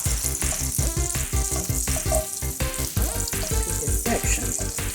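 Andouille sausage frying in a pan over high heat gives a continuous loud hiss with bright spatter and crackle, over a steady low rhythmic thumping. No one talks.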